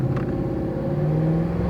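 A pickup truck accelerates hard from a standstill on a short straight, its engine note rising in a steady, loud rumble with a climbing tone throughout, close by and without talk.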